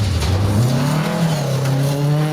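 A small red rally car racing at speed in the Royal Rally of Scandinavia, its engine loud and close, rising steadily in pitch as it accelerates, with no talking.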